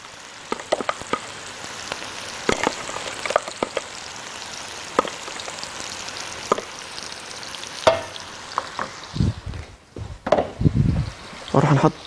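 Sauce being stirred as it sizzles in a pan over peppers and onions, with scattered scraping clicks of a utensil over a steady frying hiss, followed by a few louder low bursts near the end.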